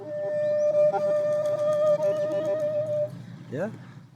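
A kobyz, the ancient Asian bowed string instrument, played to imitate a swan's wings beating as it takes off, with a sustained bowed tone that ends in a quick rising, fluttering burst of scraped strokes.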